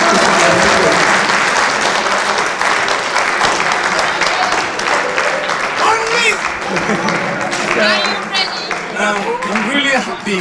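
An audience at a university English club event claps hands together, a loud sustained burst that gradually thins into scattered claps while voices and some cheering mingle underneath.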